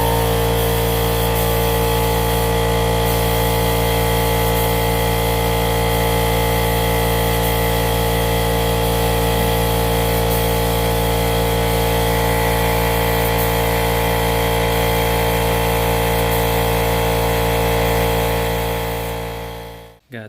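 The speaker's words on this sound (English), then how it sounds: "Hit air compressor." An air compressor runs continuously while a 1977 Ford F150 is being worked on, giving a loud, steady motor drone with strong humming harmonics that holds unchanged for about twenty seconds, then cuts off abruptly at the end.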